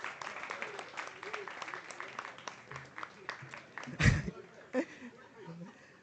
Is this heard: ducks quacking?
no